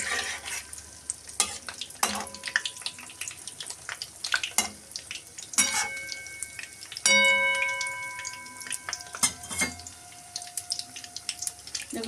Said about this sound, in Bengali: গরম তেলে পিঠে পুলিগুলি এখন ভাজা হচ্ছে।